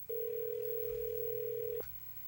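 Telephone tone heard while placing a call, a single steady pure beep held for nearly two seconds, then cut off abruptly, with faint background hum around it.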